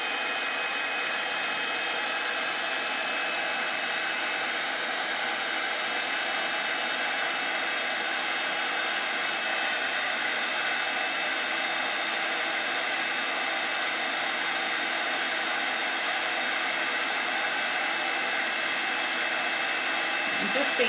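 A heat tool runs steadily over puffy paste on a gingerbread-themed handmade card, a constant close blowing whir with no break for about twenty seconds.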